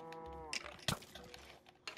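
A Minecraft cow gives a clear, close, drawn-out moo, followed by a sharp hit sound and light game clatter.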